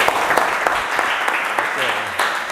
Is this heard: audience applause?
yes